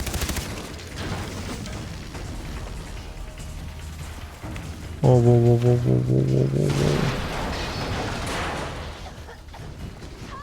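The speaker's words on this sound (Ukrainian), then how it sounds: "Вибухи фейерверки." Gunfire and explosions rumble through a Far Cry 3 battle, a steady rattle of shots and booms, with a person exclaiming loudly over the noise partway through.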